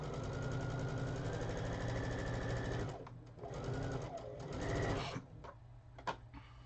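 A sewing machine stitches quilt pieces corner to corner in a fast, close mechanical whir, pausing and restarting in short bursts before stopping.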